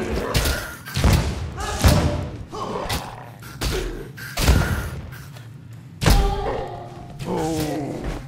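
Ranger firing poison attacks in the Path of Exile video game, heard as a series of loud thumps and thuds spaced irregularly over several seconds, with bursts of layered game effects between them.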